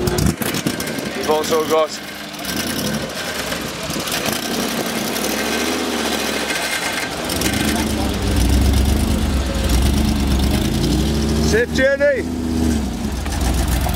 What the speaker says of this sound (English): So there's Tom heading off, the Falcon, and the Mustang also heading off.